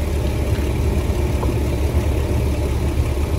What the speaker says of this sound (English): Now we are connecting the compressor.